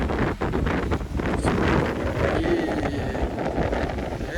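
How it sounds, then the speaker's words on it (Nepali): Strong wind at Dymchurch beach buffets the microphone in loud, continuous rumbling gusts, with a faint wash of surf behind. "बाहिर एकदमै हावा चलिरहेको छ।"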